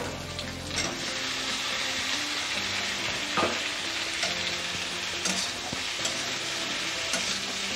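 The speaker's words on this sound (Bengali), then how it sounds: "কচুরলতিগুলোকে হালকা করে ভেজে নেব।" Onion and taro stolons (kochur loti) frying in a pan, a continuous close hiss and sizzle with occasional sharper crackles and stirring scrapes, loud and steady with no talk.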